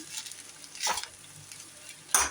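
Garlic rice is stirred in ghee in a hot pan, with two distinct spoon scrapes about a second apart over a light, continuous sizzle, heard up close without voices.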